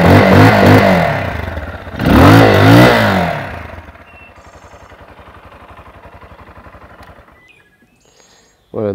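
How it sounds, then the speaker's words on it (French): A 200cc motorcycle bought in Tulum revs hard twice in quick bursts with rising and falling engine whine, then settles into a rattling idle before cutting off, up close and loud. "c'est plutôt pas mal pour une moto de 200 cm3"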